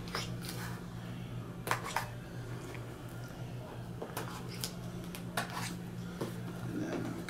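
Package tape on a box holding a Houghton H3 mouthpiece sliced with an X-Acto knife, heard as scattered close scratchy cuts and crinkling bursts over a low steady hum.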